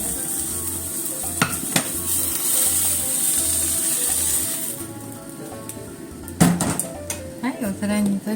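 Mochi okonomiyaki sizzles steadily in a hot pan while utensils scrape and clink against it, with a few sharp knocks of cookware.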